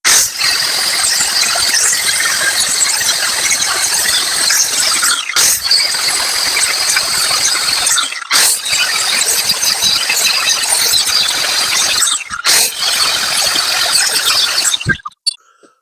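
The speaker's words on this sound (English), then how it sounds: "chop through that with a 9-inch grinder" A 9-inch angle grinder cuts through a Lada Niva rear cross-member, giving a loud, continuous high-pitched metallic screech with brief dips at three points before stopping near the end.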